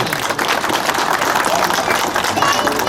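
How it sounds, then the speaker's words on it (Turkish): Applause at the opening ceremony of a sports shop, a steady, dense wash of clapping from a gathered crowd lasting throughout, with some voices mixed in. "Alkışlıyoruz."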